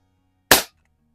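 A single sharp shot from an old Crosman Model 1 .22 caliber pump air rifle fired in a garage, one loud, abrupt crack that decays quickly into quiet.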